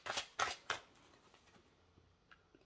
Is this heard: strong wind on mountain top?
no